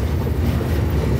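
The Chitra Express train rumbles onto the Bangabandhu bridge, a steady, loud, low rolling roar heard from on board, with no voices.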